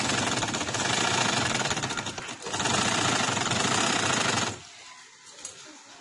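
A sewing machine stitches fabric with a fast, steady mechanical chatter, pausing briefly once before running on, then stopping and leaving near quiet.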